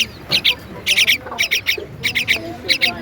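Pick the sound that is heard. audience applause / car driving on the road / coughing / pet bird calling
pet bird calling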